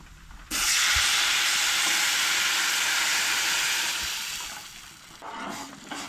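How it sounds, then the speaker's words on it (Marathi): Hot water poured into roasted semolina (rava) in a pan gives a sudden loud steamy hiss and sizzle that holds strong for several seconds before easing down, close and with no speech over it. "सो गरम उदक हांगसर ऍड करूंक जाय"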